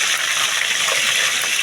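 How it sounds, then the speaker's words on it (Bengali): A pot of meat curry boils vigorously in a home kitchen, giving a steady, dense bubbling and hissing roar that fills the whole short stretch at close range, with no voices. "আর একদম মাংসগুলো একদম ফুটছে"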